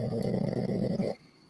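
A little tiny dog gives a raspy, rumbling snore or low growl that holds steady for about a second before cutting off into quiet.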